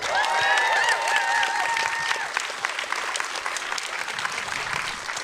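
A theater audience applauds steadily after a film screening at a Q&A for Hearts Beat Loud. Dense close clapping is mixed with a few whoops and cheers.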